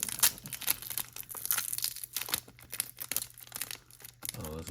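A foil trading card pack from a Destined Rivals release being crumpled and torn open nearby, with bursts of crinkling and ripping in uneven bursts over a quiet room, no talking.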